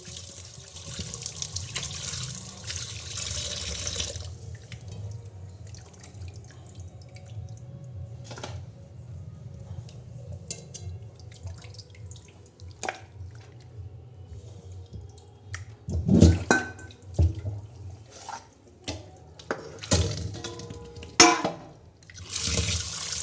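Water runs steadily from a tap with splashing and dripping, occasional louder splashes and clatters as raw chicken is rinsed under the stream.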